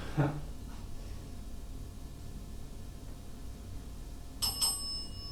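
A small bell rings twice in quick succession near the end, bright and clear above a quiet hissy room background, after a brief soft knock at the start.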